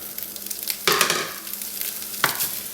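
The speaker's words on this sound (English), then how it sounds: "we're going to be putting the bacon and the kielbasa over here in one pan" Bacon and kielbasa browning together in a frying pan, sizzling steadily up close, with two sharp bursts of louder crackle as the meat is moved or stirred.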